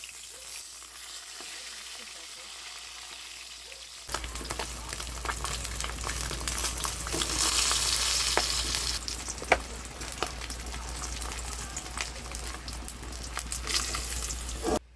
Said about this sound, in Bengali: আজকে চিতল মাছ নিয়ে আপনাদের সামনে হাজির হয়ে ভাজা হয়ে গিয়েছে, এখন তুলে নেব